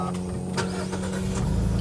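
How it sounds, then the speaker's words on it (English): A 2024 Mazda 3 sedan started with the push button, heard from inside the car as a short engine crank and catch that settles into a low, steady idle hum. "So you start it with the push button"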